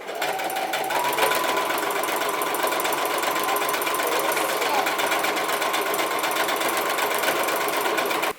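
Sewing machine top stitching a reversible bucket hat: a loud, steady, fast mechanical whir with rapid needle chatter that runs without a break for several seconds, then stops abruptly at the end, close up.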